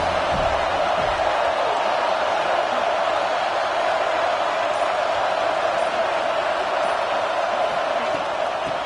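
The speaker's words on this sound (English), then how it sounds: "This crowd ready to make its presence known." A college football stadium crowd at a Notre Dame vs. USC game keeps up a loud, sustained roar of cheering that holds steady without pause across the whole stretch.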